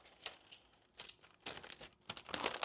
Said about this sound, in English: let's go ahead and peel this off